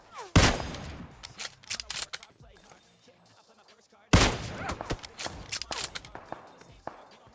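Gunfire in PUBG Mobile, with two sharp loud bursts of rapid shots about four seconds apart, each followed by scattered shots, clicks and faint game effects.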